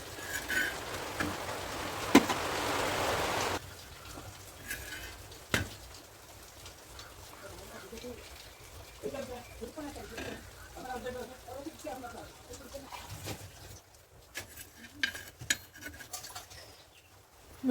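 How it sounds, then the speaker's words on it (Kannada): Pots and dishes are being washed quickly outside a house with collected rainwater: a rush of pouring water at the start, then scattered clinks and clatter of utensils, with someone talking over it. "ಹಾಗೆ ಮನೆ ಹೊರಗೆ ಬಂದು ನಾನೆಲ್ಲ ಪಾತ್ರೆನ ಬೇಗ ಬೇಗ ತೊಳಿತಾ ಇದ್ದೀನಿ ಬೇಗ"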